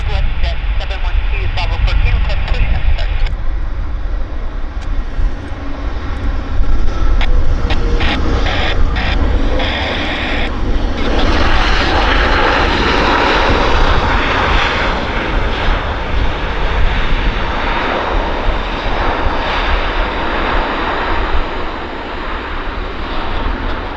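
An airliner lands in a crosswind at Vancouver Airport, its engines roaring loud and continuous throughout with a broad rumble that swells midway as the plane passes close, while a person talks over it.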